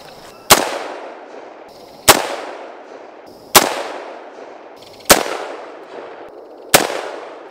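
AK rifle fired at a shooting range: five loud, sharp gunshots spaced about one and a half seconds apart. Each crack rings out in a long reverberant tail with no talking between them.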